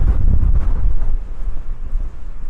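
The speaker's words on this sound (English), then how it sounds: "you can hear the wind there, can't you? Whoa, that is serious wind." Strong gusty wind batters the microphone on an open fell near Small Water tarn, a loud continuous buffeting roar that eases slightly toward the end.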